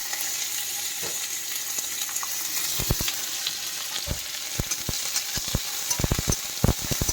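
Garlic and onion fry in oil in a pan, producing a continuous loud hiss with a run of sharp crackling pops that grows busier toward the end.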